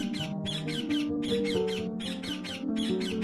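A caged bird squawks in a rapid, unbroken series of harsh, close calls, roughly three or four per second, over a low steady background hum.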